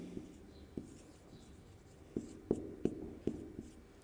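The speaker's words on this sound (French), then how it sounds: "Et pour la règle, on va écrire" A pen scratches out a French grammar rule by hand, with a few soft taps and strokes that grow busier toward the end, close and quiet against a faint background hiss.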